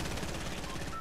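Rapid automatic gunfire from a video game, with the shots aimed at a shark, rattling loud and continuous through the whole second with no talk over it.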